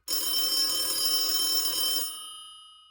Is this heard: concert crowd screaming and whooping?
no